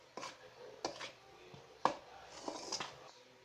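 Spices stirred into a coconut sweet bread mixture of butter and flour in a bowl, with several soft, irregular thuds and scrapes spaced apart, close and quiet.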